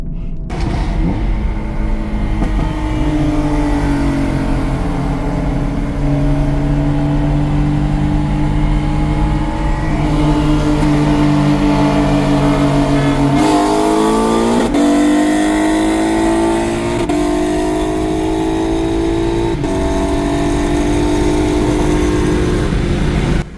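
During a drag racing run the car accelerates hard through the gears, its engine note climbing loud and close with a brief dip at each shift.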